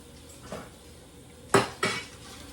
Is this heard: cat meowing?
no